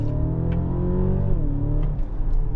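A 2024 Mercedes-Benz GLC Coupe hybrid accelerates from inside the cabin, its engine note rising in a steady sporty drone with a brief dip before climbing again, close and continuous.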